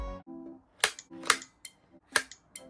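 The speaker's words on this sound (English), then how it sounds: "these magnets are super strong that attach the Joy-Con 2s to the Switch, and it is incredibly satisfying to attach them on and off" Nintendo Switch 2 Joy-Con 2 controllers snap on and off the console magnetically, giving several crisp, close clicks in quick succession between brief sliding rattles.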